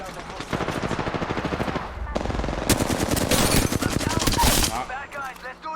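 Rapid automatic gunfire from the Apex Legends video game on PS4, with loud, close, repeated bursts of fast shots firing almost continuously, then a short pause and a final quieter stretch.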